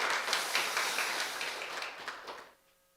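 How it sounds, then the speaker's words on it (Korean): A church congregation at a Sunday worship service in Houston applauds, many hands clapping in a lively patter that thins and fades out over a few seconds, leaving near silence. "감사하다고 우리 박수 한번 주시면 감사하겠습니다."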